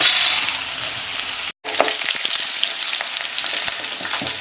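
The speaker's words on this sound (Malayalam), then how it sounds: "ഉള്ളി മൂട്ടുതേ" Onions sautéing in a pan for a Malayalam ivy gourd and dried shrimp curry give a steady, close hiss of frying with faint stirring scrapes, broken by a brief gap of silence partway through.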